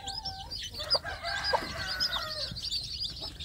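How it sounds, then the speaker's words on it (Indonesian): Native village hens cluck and newly hatched chicks peep in a busy, close chorus, with high chirps layered over lower clucking and some wing flutter. "melihat anak-anak ayam kampung ini, melihat pertumbuhan anak ayam kampung ya"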